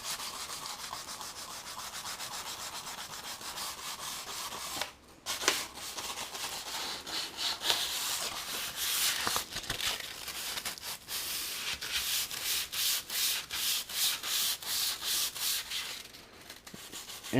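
Hand sanding the neck of an Epiphone Les Paul guitar toward a satin finish, with steady rhythmic abrasive strokes that rub close and continuous, briefly pausing before resuming in quicker even swipes.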